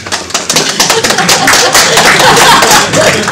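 The audience at a DrupalCamp London conference talk breaks into loud, dense applause that builds quickly and holds steady for a few seconds, with no voices over it.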